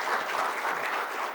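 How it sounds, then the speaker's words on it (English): Steady applause from a conference audience honoring a speaker, Professor Rajendra Srivastava, at an international Olympic research conference; dense, continuous clapping with no voices, fairly even in level throughout the short burst. "A big round of applause for Professor Rajendra Srivastava"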